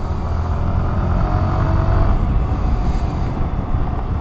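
Motorcycle engine with a variable valve actuator, heard as a steady, loud, continuous drone under wind rush while riding, holding a high, even pitch with no clear rev changes.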